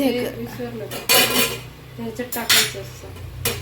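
A metal lid is set on a cooking pot for a Kolhapuri mutton rassa, several loud clanks and rattles of metal on metal separated by quieter scraping.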